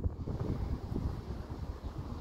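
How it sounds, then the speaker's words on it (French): Wind gusting through a strong September thunderstorm, a steady low rumbling buffet of air against the microphone, close and continuous with no voices. "Avec le vent."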